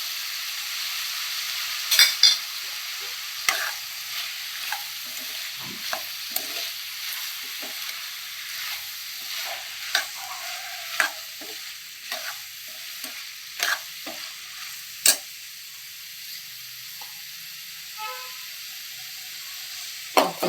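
Ground coriander and cumin powder fry in a pan for vegetable pulao, a soft steady sizzle broken by sharp scraping clicks of a spoon stirring, close and fairly quiet, with no talk.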